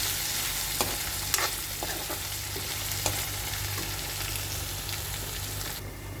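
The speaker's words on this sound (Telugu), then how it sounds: "కలుపుకుంటే దొండకాయ అనేది మంచిగా ఫ్రై అవుతుంది" Ivy gourd (dondakaya) fries in a pan with a continuous close sizzle, while a spoon stirs through it with occasional soft scrapes and taps.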